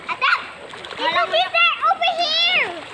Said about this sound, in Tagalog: Naligo kami sa ilog.